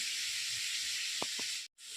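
Onions and potatoes fry in a pan with a steady soft hiss, a couple of faint taps against the pan and a brief drop to silence near the end.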